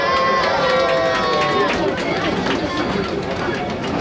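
Passengers aboard the Serengeti Express scenic train at Busch Gardens Tampa Bay cheer and shout together as a loud, steady crowd roar that runs unbroken from start to finish.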